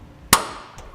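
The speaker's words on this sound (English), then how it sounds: "We're going to take a center punch. We're going to mark the center of where we're going to drill." A center punch struck once with a hammer to mark a drill hole, a single sharp metallic crack with a brief ringing decay, followed by faint small taps.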